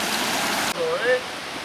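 Broadband rushing of creek water flows steadily and fairly close, with a faint voice briefly rising over it partway through.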